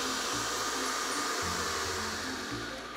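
An electric mixer whipping 20 cl of cream into chantilly, a continuous loud whirring drone with a dull motor hum that shifts pitch a few times.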